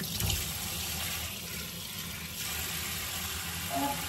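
Tap water runs steadily into a cleaning bucket mixed with Lysol for whole-house cleaning, a continuous close hiss and splash at moderate level without speech.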